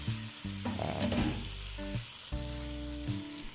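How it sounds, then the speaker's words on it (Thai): Rat pieces stir-fry with curry paste in a hot pan, crackling with a loud continuous sizzle broken by bursts of scraping and stirring. "เอาหนูที่หั่นเป็นชิ้นๆแล้วนะครับ ใส่ลงไปครับผัดรวมกันครับ"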